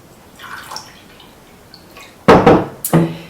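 Water poured into cups, with soft trickles and drips early on, then two louder splashing pours close by near the end, with no talk.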